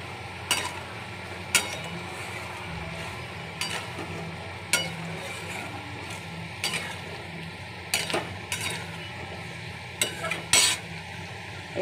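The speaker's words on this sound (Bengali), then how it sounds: "এইটা একদম ফুটে টকবক করে" A vegetable dish bubbles and simmers steadily in a pan at close range, with a few sharp utensil clinks against the pan scattered throughout and no talking.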